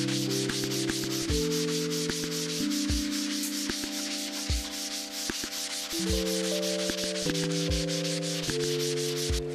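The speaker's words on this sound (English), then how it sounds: "I'm gonna do a little bit of sanding to see what areas I need to add a little bit more drywall mud." Continuous scratchy sanding of dried drywall joint compound in a garage, steady and close throughout, with overlapping tonal hum layers that shift in steps beneath it.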